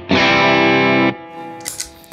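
A clean electric guitar chord rings out through a four-pedal board setup, sustaining bright and full for about a second before being choked off, followed by faint string and pick noise.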